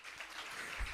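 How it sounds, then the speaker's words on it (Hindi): Audience applause at a Hariyali Teej poetry gathering, a brief steady wash of clapping with no voices heard. "तालियां बजाकर मुझे प्रोत्साहित कीजिएगा"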